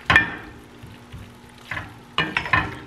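Pasta sauce loaded with vegetables cooks in a pan, giving soft close sizzling with bursts of clattering stirring at the start and again near the end, and no talking.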